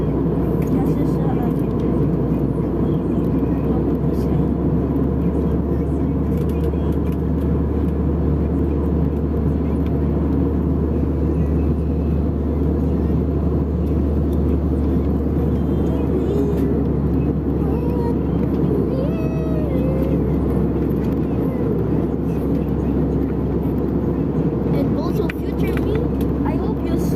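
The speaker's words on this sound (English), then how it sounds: "We are already landing." Steady low roar inside the cabin of a Cebu Pacific airliner coming in to land on a flight from Boracay to Manila, continuous and loud throughout with a faint voice now and then.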